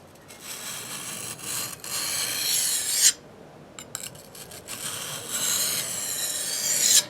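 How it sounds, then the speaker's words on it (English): An ESEE 6 knife blade with a sandblasted, powder-coated finish rasps back and forth on a sharpening stone coated in slurry, in long, close strokes with short pauses between passes. "you've got this kind of layer of slurry that's come off the stone as I've been using"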